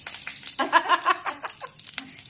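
Green chili sizzling in hot oil in a wok, a steady crackling fry with a few louder stirring bursts, close and moderately loud with no talk.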